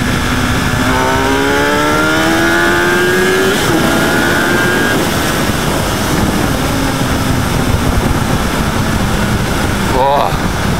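A 2016 Ducati XDiavel S riding in second gear, its engine note rising in steady sweeps, then dropping and climbing again under loud wind rush, with a brief sharp rev near the end.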